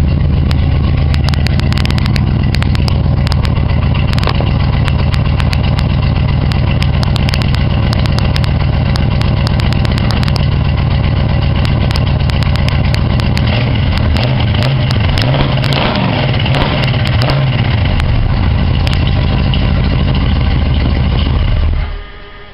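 An Oldsmobile Vista Cruiser engine runs loud and close after a cold start, a deep continuous exhaust note with rough idle pulses and some revving, ending abruptly.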